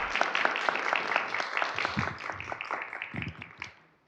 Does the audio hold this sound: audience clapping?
yes